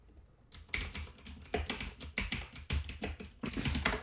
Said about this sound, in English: That is a loud ass keyboard.